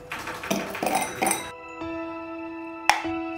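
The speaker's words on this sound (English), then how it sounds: "So we're gonna put a lot of ice cubes." Ice cubes dropped into a glass while making pumpkin juice, a few quick clattering clinks followed by bright ringing taps, close and clear.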